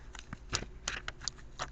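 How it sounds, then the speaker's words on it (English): Tarot cards being shuffled by hand, a soft papery riffle and flutter in several short bursts, close and quiet, with no talking. "So as I'm shuffling"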